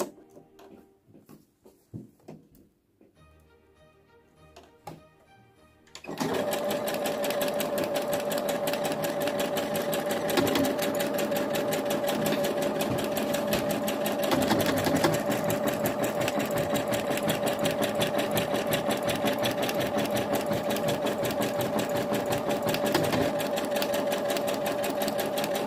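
A domestic sewing machine stitches a standard buttonhole, running in a fast, even mechanical whir after a few seconds of quiet handling clicks and rustles, loud and close until the end.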